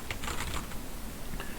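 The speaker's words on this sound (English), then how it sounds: "I'm going to come over here and I'm going to start typing, and it's going to show up." Computer keyboard typing during a UART loopback communication demo, a quiet run of soft, uneven keystrokes close by, alone with no talk.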